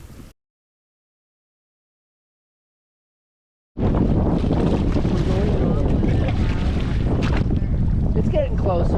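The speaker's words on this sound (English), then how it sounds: "The wind is stronger than the tide." Strong wind buffets the microphone aboard a sailboat heading to Cumberland Island, a loud continuous roar with water and hull noise beneath, starting after a brief burst and several seconds of silence.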